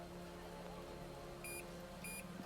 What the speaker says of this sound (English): You hear a small beeping on your KIA unit.